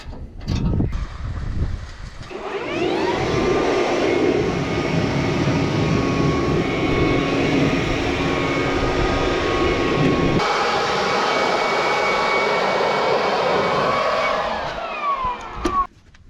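Compressed air blasts through the bale chamber of a farm baler during end-of-season cleaning, a loud steady roaring hiss lasting about twelve seconds before cutting off.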